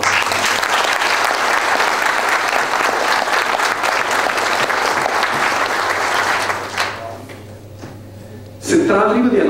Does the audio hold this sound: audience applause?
yes